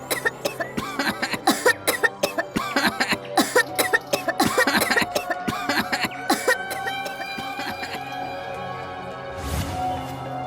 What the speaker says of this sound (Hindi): कौन सी खांसी की बीमारी फैल गई है इस घर में?